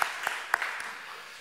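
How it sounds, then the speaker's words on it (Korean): A church congregation at Sunday worship gives brief applause after a hymn, a few distinct claps standing out over a soft, diffuse wash of hands that fades within about a second. "하나님께 영광의 박수 올려드리겠습니다."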